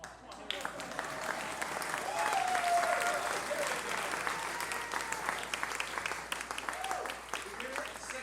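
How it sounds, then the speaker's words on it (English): An awards-ceremony audience applauds a songwriter-of-the-year winner, sustained dense clapping from a crowd that swells and then tapers, with a voice speaking faintly over it. "let's give a round of applause"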